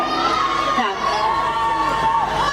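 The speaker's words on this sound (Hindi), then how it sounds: "हाँ, तो बहुत जोर से बजाइए तालियां कि आप यहाँ उपस्थित हैं।" A crowd of children and adults at a prize distribution event for a theater arts festival cheers and claps, a loud, sustained wash of shouting and applause.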